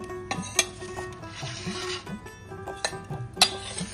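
Chili powder and spice powders being stirred into oil for Telangana mango pickle, heard as close, repeated rubbing and rasping scrapes of a spoon against a pot, with a few sharper clinks marking the rhythm.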